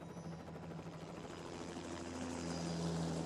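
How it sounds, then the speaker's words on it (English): Helicopter in the video game GTA Online, a steady droning rotor and engine hum with faint periodic chopping, holding close and loud without pause. "It looks like the same helicopter that the billionaire was in."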